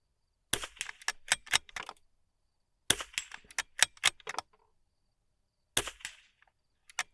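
Rimfire rifle shots striking a steel spinner target, heard as three separate clusters of sharp, cracking impacts, each cluster several quick shots followed by silence, crisp and fairly close.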